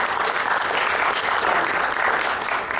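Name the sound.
audience applause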